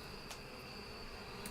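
Bees buzzing in the beekeeping video game APICO, a soft steady insect drone held under faint background music, with no talking.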